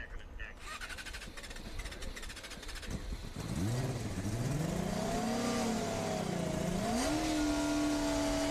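A Formula SAE combustion race car waits at autocross, engine idling. After a few seconds of background chatter, it revs up in rising and falling sweeps, then holds a higher steady pitch, close and loud.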